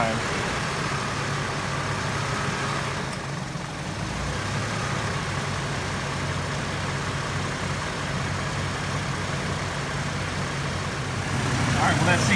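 Car engine with its air-conditioning compressor running, rising briefly in revs from a steady idle, a continuous close rumble that swells slightly near the end.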